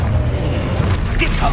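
An Expulso blasting spell goes off in Hogwarts Legacy as a loud, dense boom with a rumbling low end, over steady game noise, with no pause or gap.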